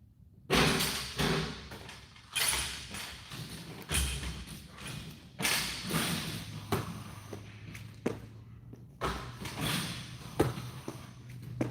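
Basketball shooting practice on a court, with repeated loud thuds of the ball bouncing and hitting the rim or backboard at an irregular rhythm, close by, with no talking.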